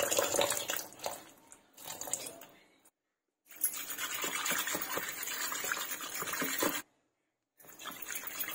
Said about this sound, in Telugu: ఇందులో వాటర్ పోసేసుకుందాం. ఇలా కొద్దిగా పైనుంచి పోసుకోండి.